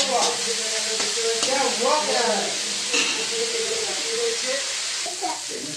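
Onions frying in a small amount of oil in a home kitchen, a steady sizzle running under a voice talking throughout.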